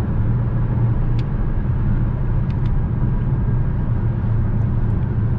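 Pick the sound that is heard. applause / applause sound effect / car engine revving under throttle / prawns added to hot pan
car engine revving under throttle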